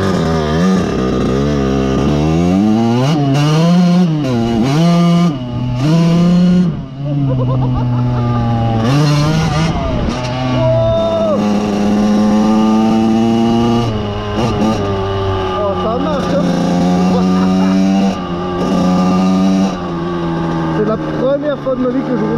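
A 1988 Kawasaki KX80 dirt bike, taken out after 15 years stored in a barn, revs and rides past: a loud, close, buzzing two-stroke engine rising and falling in pitch through gear changes, continuous throughout, with speech at times.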